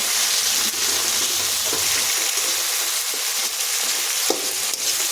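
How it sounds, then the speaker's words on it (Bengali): Chopped tomatoes with salt fry in oil in a pan, giving a loud continuous sizzle close up, broken by occasional clicks and scrapes of stirring. "2টো ছোটো সাইজের টমেটো কুচি করে দিয়েছি। টমেটোটা ভেজে নেব।"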